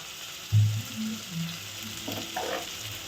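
Ginger, garlic and coriander paste fries in a pan, a close sizzle that swells as it is stirred, with a soft scrape of the spoon and bubbling crackles rising toward the end; no talking.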